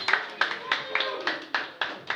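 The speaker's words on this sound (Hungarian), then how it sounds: "Egy nagy tapsot a Kovász Kultúrbárnak." An audience at Kovász Kultúrbár, an unplugged show, gives a small round of applause. A handful of separate sharp claps land in an uneven rhythm, close and fairly loud.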